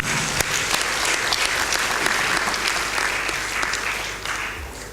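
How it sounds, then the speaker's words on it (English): A large audience applauding at a Rotary Institute gathering, dense sustained clapping filling the hall, loud and even before tapering slightly at the end. "Let us have a big round of applause for our lovely audience"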